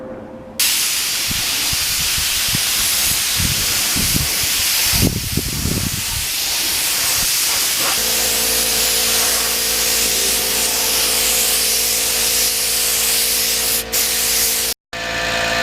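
Spray gun laying a wet second coat of high-gloss finish onto carbon fiber, a steady close hiss running with brief pauses and bursts before settling into a continuous even spray.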